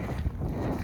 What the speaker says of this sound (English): The wind is picking up now, so there's probably quite a lot of wind on this.